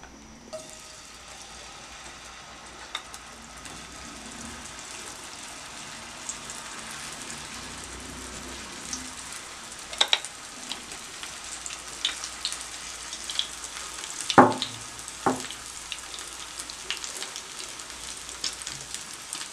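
An eggless omelette frying in oil on a hot griddle over a low flame, giving a soft, continuous sizzle with scattered pops and a few sharper crackles, heard alone.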